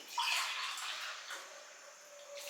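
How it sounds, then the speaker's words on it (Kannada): Water pours into a cooking pot on a home kitchen stove for boiling chavali kayi (cluster beans), a brief soft splashing fill heard close and alone, fading slightly toward the end. "ಒಂದು ಗ್ಲಾಸ್ ಮೇಲೆ ಅರ್ಧ ಕಪ್ ಗ್ಲಾಸ್ ನೀರು ಹಾಕ್ತಾ ಇದ್ದೀನಿ"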